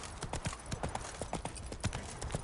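Horse hooves clip-clop steadily in The Witcher 3, a quick, even rhythm of close, crisp hoof strikes at moderate volume, with no talking.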